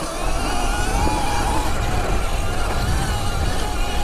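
A Sur-Ron electric dirt bike fitted with a Formula Tech fork climbs a mountain trail from the valley floor, giving a steady, loud rush of motor whine, wind and tyre noise throughout.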